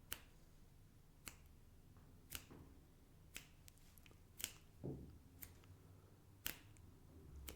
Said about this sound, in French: tu vas juste me dire si tu entends à droite ou à gauche le claquement de doigts